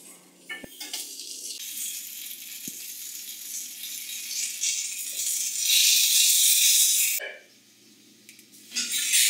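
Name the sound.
food frying in a pan for Bengali chicken curry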